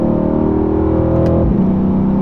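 A 2020 Mercedes-AMG C63 S coupe with a 4.0 V8 biturbo and nine-speed automatic in manual mode drones loudly and steadily from inside, then its pitch drops abruptly partway through as the gearbox shifts, with no talk.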